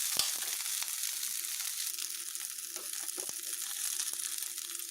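Curry leaves frying in hot oil for a Tamil pepper kuzhambu make a steady close sizzle with occasional sharp pops and light stirring taps.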